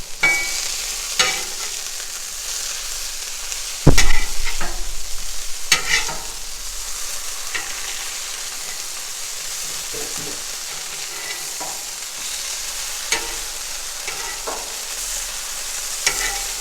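Sausage patties sizzle steadily on a hot Blackstone griddle, a continuous bright hiss with a loud spatula scrape and clatter partway through and occasional ticks of metal, no talking.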